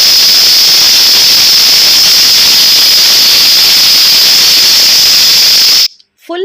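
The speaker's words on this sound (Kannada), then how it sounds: "ಈಗ ನಾನು ಕುಕ್ಕರ್ ಮುಚ್ಚಿ ನಾನು ಒಂದು 4 ಸೀಟಿ ತೆಗಿತೇನೆ" A small pressure cooker cooking mutton sukka lets out a loud, sustained steam whistle, a steady high hiss-squeal lasting several seconds that cuts off abruptly near the end.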